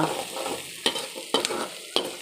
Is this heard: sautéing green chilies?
yes